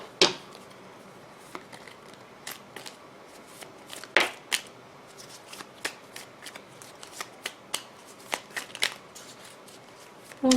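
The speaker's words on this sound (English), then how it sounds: "I'm going to shuffle these cards" Small tarot cards being shuffled by hand, a run of crisp riffling bursts and soft slaps at irregular intervals, close and fairly quiet against a hushed room.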